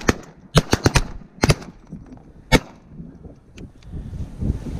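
Shotgun blasts crack out during a windy goose and duck hunt over sheet water, a rapid cluster of four sharp shots, then two more, and one final loud shot, with wind rumbling underneath.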